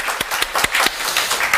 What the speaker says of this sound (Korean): 하나님께 찬양, 영광의 박수 올려드리겠습니다.